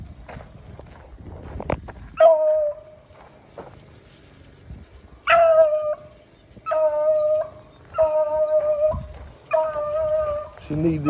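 A female beagle hound bays repeatedly while running a cottontail rabbit alone in eastern North Carolina, her drawn-out howling bawls coming in separate bursts at middle distance, with brief yips and faint rustling between them.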